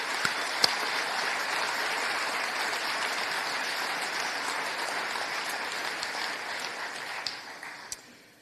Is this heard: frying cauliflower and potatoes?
no